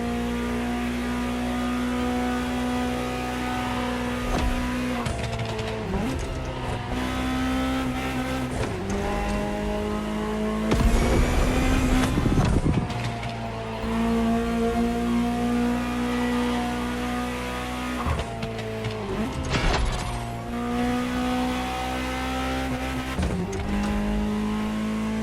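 A Ferrari supercar in the Motorfest racing game drones with a loud sustained engine note, rising and falling through gear changes and revs, with occasional tire squeal, no voices.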